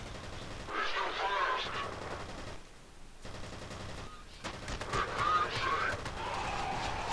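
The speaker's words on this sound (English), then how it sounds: "I shot you in the head so many times" Gunshots ring out in the F.E.A.R. video game, bursts of automatic fire broken by short gaps, mixed with game noise and a voice talking over it.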